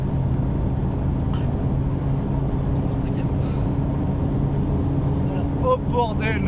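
A BMW 120d tuned to stage 2+, rated 250 hp and 500 Nm, accelerates hard from inside the cabin, a steady loud engine and turbo drone that persists throughout while people talk excitedly over it.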